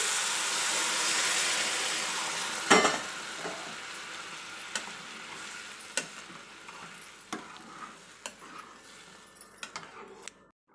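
Steady frying sizzle as hot water is added to roasting semolina, with stirring, sharp scrapes and clanks of a spoon against a pan at irregular intervals, the hiss gradually fading.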